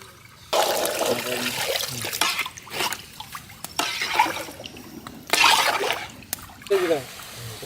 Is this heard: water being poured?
yes